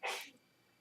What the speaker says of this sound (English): My wife just sneezed.